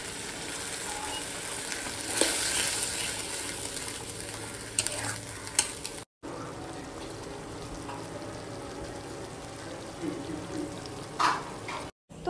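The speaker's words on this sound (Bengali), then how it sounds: "এবার একটু পেঁয়াজ কুচি দিয়ে ভালো করে নাড়ানাড়ি" Chopped onion and fried potatoes sizzle in a pan while being stirred, with a steady frying hiss and scattered scraping and clinking of the spatula, moderately close, with two brief dropouts.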